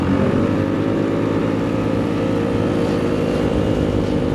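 A Honda motorcycle engine roars steadily nearby, its pitch rising gradually as it accelerates, loud and continuous with no talking.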